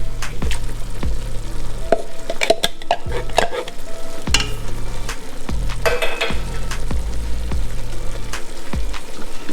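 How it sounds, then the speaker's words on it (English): Shredded bamboo shoots going into a sukiyaki pot and being mixed, a steady close sizzle of frying with repeated scraping and stirring strokes and a few light clinks of utensil against the pan, no talking. "Next, putting in a can of shredded bamboo shoots."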